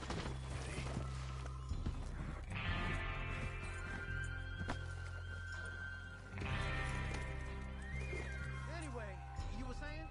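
Horses neigh and whinny repeatedly in a video game, with hooves clip-clopping beneath and speech-like voices mixed in, several loud whinnies standing out over a continuous rumble.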